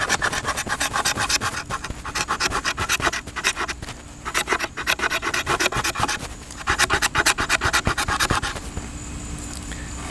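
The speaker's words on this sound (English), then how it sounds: "We'll see how well the spine scrapes." The spine of an Old Timer Mountain Beaver Sr knife scrapes along a piece of fat wood in close, rhythmic rasping strokes, several bursts separated by short pauses, with no talking.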